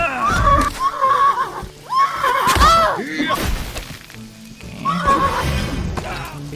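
A horse in the video game Mortal Online 2 neighs loudly and repeatedly in long, wavering whinnies, with some rough breathy snorts and hoof sounds in between, heard close up.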